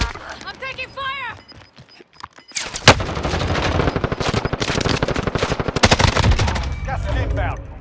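Rapid automatic gunfire bursts in a Call of Duty Warzone match, loud and dense from about three seconds onward, with sharp cracks layered over sustained fire after a brief quieter stretch with tonal game sounds.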